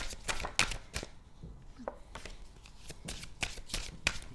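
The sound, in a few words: shuffling cards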